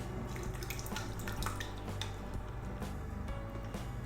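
Canned chopped tomatoes go into a cooking pot for lasagnette, making steady close wet squelching and dripping sounds with faint splashes, heard alone with no talking.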